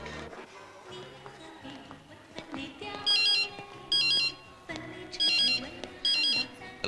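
A mobile phone ringtone for an incoming call rings in four repeated bursts, fairly loud, over a busy film soundtrack with background music and voices.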